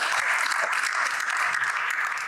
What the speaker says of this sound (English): I need those claps as well